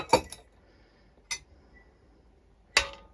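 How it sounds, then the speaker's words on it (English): A spoon stirring milk and vinegar in a container for mozzarella gives three sharp, separate clinks against the side, faint and close, with quiet gaps between them. "give it a stir"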